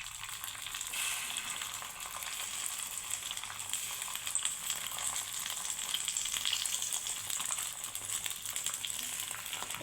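Egg, chicken and cheese balls fry in hot oil on lowered gas, giving a steady, dense sizzle with bubbling crackle that holds evenly throughout, close and continuous with no voices.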